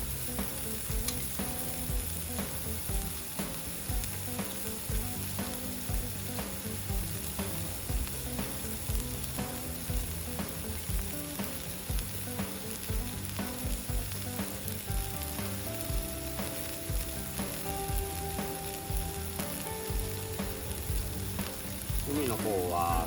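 Meat for yakiniku sizzles on a grill plate outdoors by a campfire, a dense, steady crackle and hiss that runs loud and close the whole time with faint clinks and scrapes, no talking.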